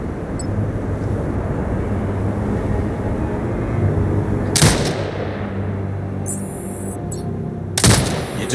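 Turret gunfire in the video game Sniper Ghost Warrior Contracts 2: two loud, sharp bursts roughly three seconds apart cut through a constant low engine-like drone.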